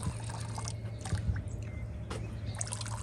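Drinking water running at a public water point outdoors, a soft continuous splash and trickle with faint background noise.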